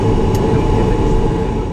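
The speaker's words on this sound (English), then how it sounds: "as we're taxiing further out to the runway threshold" Ilyushin Il-76 transport jet taxiing out toward the runway threshold, heard as a loud, steady low engine rumble and drone from inside the aircraft, continuous throughout with no pauses.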